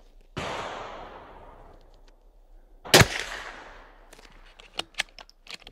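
A Sako .22 rifle fires two sharp, close cracks a few seconds apart, each with a brief decaying tail, followed by faint clicks of handling.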